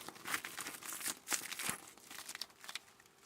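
Stiff paper fabric made from gelli prints crinkles and crackles up close in short bursts, fairly quiet.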